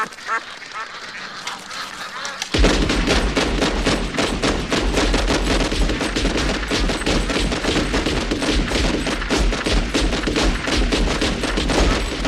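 Rapid, sustained Uzi submachine gun fire erupts after a quiet opening and rattles on loud and dense to the end, with no talk over it.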